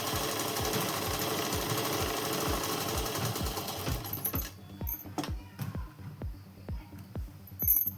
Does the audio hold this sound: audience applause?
no